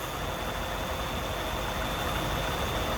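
A 1996 Cadillac DeVille Special Edition with a little over 15,000 miles idles smoothly and steadily, a close, even low engine hum with no revving throughout.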